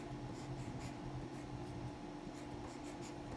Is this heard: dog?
no